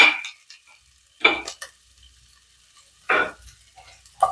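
Ginger garlic paste, green chillies and curry leaves sautéing in coconut oil for a beef cutlet, heard as several short bursts of stirring and sizzling separated by quiet gaps, close up, with no talking.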